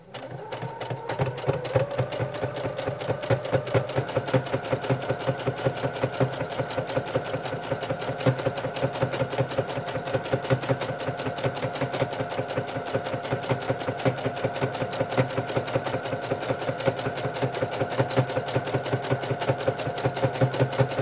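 A sewing machine stitches a seam on a small fabric mini tote bag, running with a fast, steady mechanical chatter of needle strokes, close and continuous for about twenty seconds without talk.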